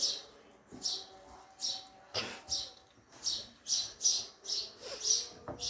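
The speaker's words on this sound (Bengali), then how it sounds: "পাখির শব্দ না" Small birds chirp in a repeated series of short, bright calls, fairly close and steady across the stretch, with faint background sounds and no clear talk.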